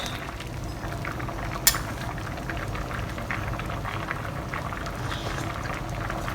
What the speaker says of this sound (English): When the soup is boiling, it's time to put the fish in.